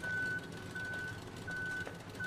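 A reversing vehicle in the video game Human Fall Flat sounds a high, even warning beep, repeated about four times at a regular pace over a faint low engine hum.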